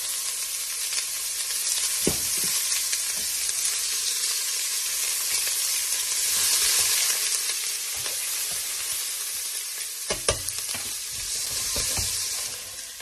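Onions fry in oil for a homemade pasta sauce, giving a steady, close hiss and sizzle with occasional soft stirring knocks and scrapes and no talking.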